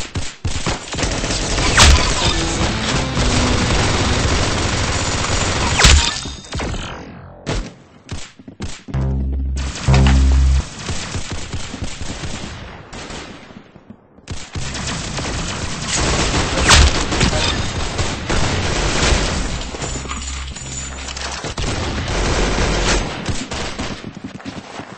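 Video game gunfire rattles in rapid bursts and heavy booming shots, dense and loud for most of the stretch, with short lulls and a few deep thuds in between.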